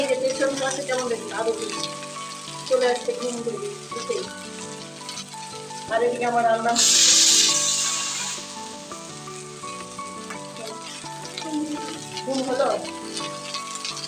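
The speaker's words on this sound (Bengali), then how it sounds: "ঢ্যাঁড়সের সবজিটাও বসিয়ে দিচ্ছি" Okra curry starting to cook in a pan in a home kitchen, giving a steady frying sizzle under ongoing talk, with a brief louder hiss of oil near the middle.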